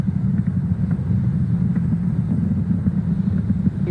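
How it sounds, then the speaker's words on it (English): A SpaceX Falcon Heavy rocket in flight with its side-booster engines throttled up, a steady, deep rumbling roar that is loud and continuous. "So we're gonna throttle up those engines again on these side boosters"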